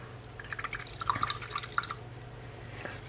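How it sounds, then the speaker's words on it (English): A paint brush rinsed in a water pot while painting a Medusa miniature, with small splashes, swishes and drips in quick irregular bursts, quiet and close over a low steady hum. "Wash the brush out."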